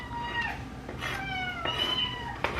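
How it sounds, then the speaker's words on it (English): Cats yell and meow insistently: several drawn-out, wavering cries one after another, fairly close and loud over faint background noise, with no talking. "What are the cats yelling at?"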